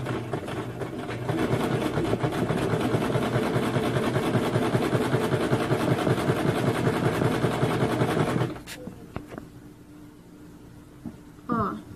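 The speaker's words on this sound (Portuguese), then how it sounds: "abaixa a agulha para poder ficar, o tecido não correr. E assim nós vamos fazendo toda a costura." A sewing machine stitches fabric for a pad pouch, running as a steady, close mechanical whir with a fast needle rhythm for about eight seconds before stopping abruptly, followed by near quiet and a short rustle.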